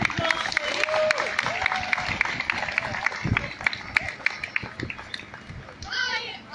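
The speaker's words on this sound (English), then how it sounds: "Give her a round of applause, please." Outdoor Black Lives Matter protest crowd in Preston clapping for a speaker, scattered sharp claps over a murmur of voices and children's chatter, fairly close and moderately loud, with a brief rustle of wind at the end.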